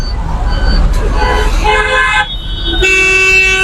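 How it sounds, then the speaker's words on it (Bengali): A hydraulic horn on a road vehicle in Bangladesh sounds two loud, sustained tonal blasts, the second starting near the end and holding steady, over engine rumble and traffic noise. "একটু হাইড্রোলিকটা বাজান"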